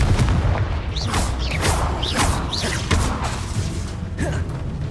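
Confringo explosion spells cast in Hogwarts Legacy, a string of sharp whooshing blasts landing about every half second over a steady low rumble of game sound.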